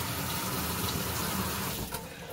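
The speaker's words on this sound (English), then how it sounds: "We just want to run a little bit of water to make sure there's no leaks" Water running steadily from a tap into a kitchen sink fitted with a newly replaced in-sink garbage disposal, a close, even rushing hiss that stays constant and tapers slightly at the end.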